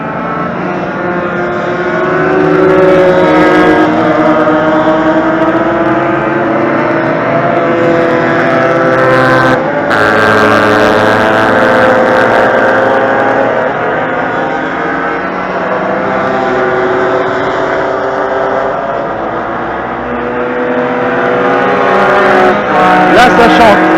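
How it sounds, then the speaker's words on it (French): Race cars on a warm-up lap at a circuit during the Trophées Jumeaux 2022 meeting give a continuous, fairly loud engine drone that swells and eases slightly over the whole stretch, with no clear breaks. "Donc tour de chauffe pour mettre les pneus à température."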